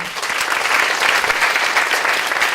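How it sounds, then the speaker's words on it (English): Steady applause from a forum audience after a higher-education panel discussion, dense and continuous clapping filling the room at even loudness from start to finish. "let's give a round of applause for the panel"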